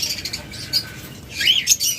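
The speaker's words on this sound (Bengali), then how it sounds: "বিগ সাইজের ককাটেল পাখি" Big cockatiels give sharp, high chirps and short squawky calls in quick scattered bursts, fairly close and over a soft background hiss.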